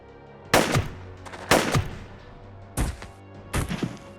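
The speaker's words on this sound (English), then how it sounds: "SKS. This extremely common semi-automatic carbine weapon has seen action in almost every communist country in the world." An SKS semi-automatic carbine firing in Jagged Alliance 2, four loud, sharp single shots spaced about a second apart, each with a short ringing tail.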